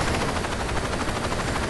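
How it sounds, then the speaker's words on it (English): Helicopter in the video game Saints Row 2, a dense steady rotor roar with rapid chopping pulses that fills the whole stretch loudly and alone. "It's really hard to control this helicopter because the helicopter controls is really stiff in this game."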